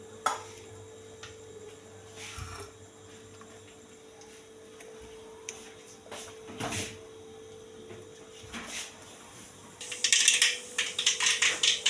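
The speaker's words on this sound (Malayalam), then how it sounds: "കടുക് പൊട്ടട്ടെ" Mustard seeds pop in hot oil as the tempering for kozhukatta, starting as sparse, scattered ticks and quiet clicks, then swelling into a dense, loud burst of crackling near the end.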